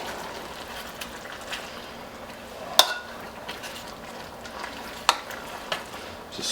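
A chicken broth and cornstarch sauce for moo goo gai pan heats back toward a boil in a pan, giving a soft, steady bubbling sizzle broken by a few sharp clinks of a utensil against the pan.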